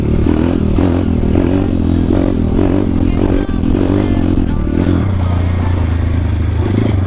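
A Honda CRZ 140 dirt bike engine revs hard and holds a loud, steady drone through a wheelie, with rattles and clatter from the bike close by.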